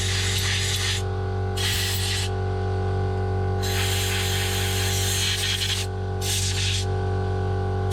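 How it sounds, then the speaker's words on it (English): Compressed air blasts through the hoses and air screw hole of a Keihin PWK carburettor from a trials bike, coming in several loud hissing bursts over a steady background hum. "Blow through all the hoses, pipes and outside, especially the air screw hole."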